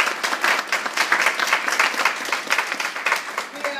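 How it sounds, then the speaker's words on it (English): Applause from an audience at a school reading night, a dense patter of many hands clapping steadily for a few seconds at moderate loudness, fairly close, with faint voices underneath. "please, another round of applause."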